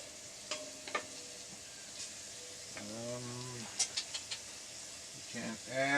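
Onions and peppers soften in a hot pan, giving a faint steady sizzle, with occasional stirring clinks and a few brief bird-like chirps in the background.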